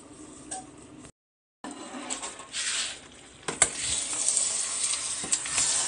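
Affang soup being stirred in a cooking pot, giving scraping, sizzling and pattering sounds close by, with a brief silent gap early on and then steady, busier stirring noise to the end.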